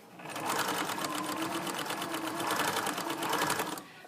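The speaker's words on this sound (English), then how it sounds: "the sewing machine needle, is engaged in the fabric" A sewing machine runs steadily for several seconds, its rapid needle stitching through fabric in an even, mechanical rhythm up close.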